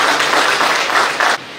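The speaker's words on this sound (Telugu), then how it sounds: "వాళ్ళందరూ గట్టిగా చప్పట్లు కూడా అభినందించారు" An audience at a police district event claps loudly for winners, a dense, continuous burst of applause that lasts over a second and then cuts off abruptly.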